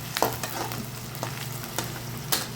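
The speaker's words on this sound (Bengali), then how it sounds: "পেঁয়াজটা কষানো হয়ে গেলে, ভাজা ভাজা হয়ে গেলে" Onions sizzle and fry in a steel kadai while being stirred, with a steady close sizzle broken by several sharp scraping strokes of the spoon.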